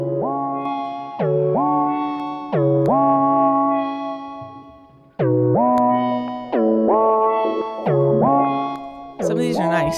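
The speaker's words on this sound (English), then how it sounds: "I was playing with this one, the filter and pitch effects" A u-he software synthesizer patch plays a sequence of bright, buzzy sustained notes that jump in pitch, each with a sharp swept-filter attack, distorted and echoing, alone without talk.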